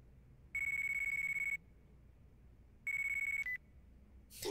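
An in-game telephone rings in Yakuza Dead Souls with two electronic bursts, each about a second long, separated by a pause. The second burst cuts off abruptly, as if the phone is answered, and the rings stand alone over a quiet background.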